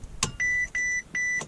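A Mercedes S550 W221 gives a short click, then three loud, evenly spaced electronic beeps close by; no engine roar is clearly heard.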